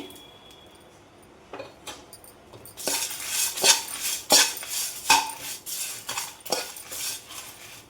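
Curry leaves, dried chillies, tamarind and salt being fried and tossed in a pan, heard as quiet scraping at first, then a run of loud metallic spatula clinks and scrapes against the pan, close up.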